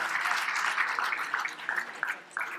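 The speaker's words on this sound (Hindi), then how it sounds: "के लिए पहले ताली होनी चाहिए एक बार अच्छे से ना" An indoor audience at a talk on natural drug development claps together in a steady, moderately loud patter that thins toward the end, with a few sharper individual claps.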